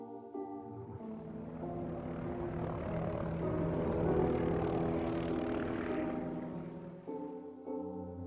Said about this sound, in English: the ladder was dropped down and I had to climb up into the helicopter